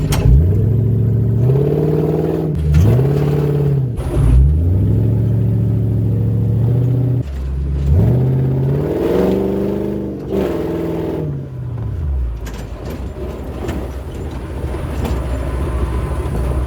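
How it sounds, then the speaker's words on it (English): A loud Toyota 1UZ V8 engine in a Massey Ferguson tractor revs and climbs through its gears repeatedly, pitch rising and dropping in sweeps as the tractor accelerates hard to about 50 km/h. "That is scary fast for a tractor."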